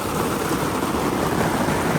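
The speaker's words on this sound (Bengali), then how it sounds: "বৃষ্টির কারণে অঝোর পানি, বৃষ্টি, শুধু বৃষ্টি আর বৃষ্টি" Heavy downpour in Chattogram: a loud, unbroken roar of rain striking surfaces, thick and constant from start to finish with no voices.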